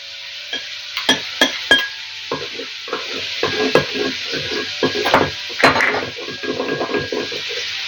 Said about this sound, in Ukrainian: І все ретельно перемішую.